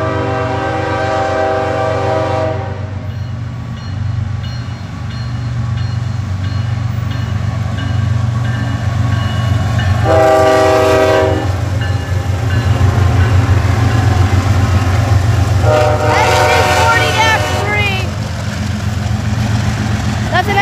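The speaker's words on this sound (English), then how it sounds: "That's an SD 40-3 right there, guys." An SD40-3 diesel locomotive rumbles past with a steady low engine drone, its horn sounding in several loud harmonic blasts near the start, around the middle and again toward the end, with voices talking over it.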